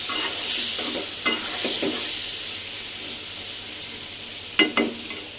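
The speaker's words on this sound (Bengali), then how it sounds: "এখন কিছু টমেটো এর মধ্যে দিয়ে দেবো।" Sliced potatoes already browned in a frying pan sizzle with a steady loud hiss as soaked tomatoes go in, broken by a few sharp scrapes and stirring knocks against the pan.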